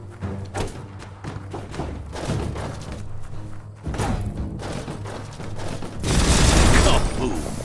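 A broadband blast from an explosive object being shot in Biomutant, a loud burst near the end following mechanical clicks and thuds of game action over music.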